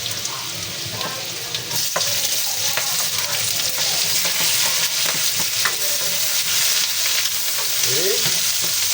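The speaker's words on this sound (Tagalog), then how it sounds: "igisa na natin yung ating bawang. Sinod na rin natin yung ating sibuyas." Garlic and onion sauté in oil in a pan with a strong, steady sizzle and frequent stirring scrapes and clicks of a utensil close by, without speech.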